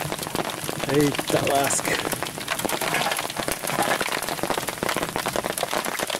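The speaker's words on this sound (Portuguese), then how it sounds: "a chuva espantou, gente." Steady rain patters and drums on surfaces during a fishing trip on the Miranda river, a dense continuous hiss throughout, with someone briefly speaking over it.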